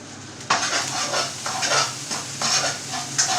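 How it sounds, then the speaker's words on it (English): Rice frying and being stirred in a pan, a continuous close sizzle broken by several scraping stirs of a utensil against the pan. "I'm still frying this rice."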